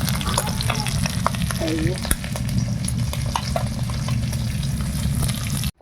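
Snakehead fish curry frying in a pan, a steady loud sizzle with occasional spatters and stirring scrapes throughout, a brief word spoken over it.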